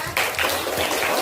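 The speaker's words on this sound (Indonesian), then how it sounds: "oke, kita beri tepuk tangan ya." A classroom breaks into applause, a short burst of many hands clapping together, loud and close, lasting just over a second.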